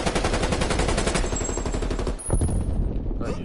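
Rapid automatic gunfire in Call of Duty Black Ops Cold War: loud, dense bursts run for about two seconds, break briefly, then resume just as hard.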